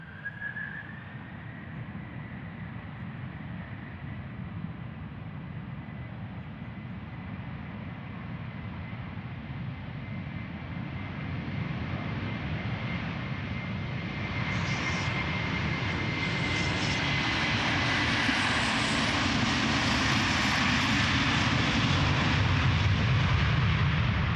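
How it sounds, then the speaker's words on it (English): A Delta Air Lines Airbus A330-300 bound for New York JFK spools up its engines for departure at Amsterdam Schiphol Airport, a broad roaring whine that steadily swells louder over about twenty-four seconds, with no talk. "there's an airplane spooling up ready to go. And that is going to New York JFK, Delta Airlines, flight 49, Airbus A330-300."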